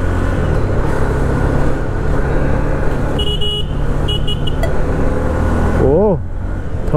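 A 2023 Honda CB300F motorcycle ridden in third gear, with steady engine drone and wind and road rush throughout and a brief rising whine near the end.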